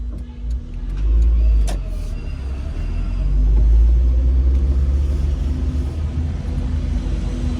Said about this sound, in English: I'll let this vehicle go by though.